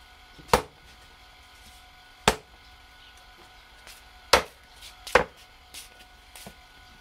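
A knife mincing ingredients for Vietnamese bone salt, heard as a handful of sharp, isolated chops spaced about a second or more apart, close and fairly loud in a quiet room.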